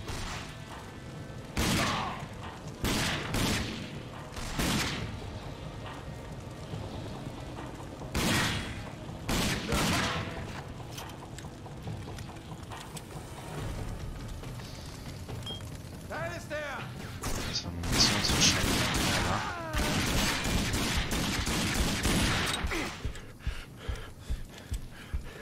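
Rapid gunfire bursts in the shooter game Rage, loud sharp volleys and single shots spread across the stretch, with dense bursts near the end and someone talking underneath.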